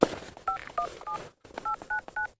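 A telephone number is dialed on a keypad, giving a quick run of distinct two-tone beeps in two short bursts separated by a brief pause, each tone clean and close.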